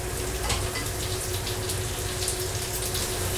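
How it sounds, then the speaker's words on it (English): Hot water runs from a kitchen tap in a steady, even stream for polenta, close and continuous with no talking. "I got some warm, now really hot water. I'm going to add to the polenta a little bit at a time."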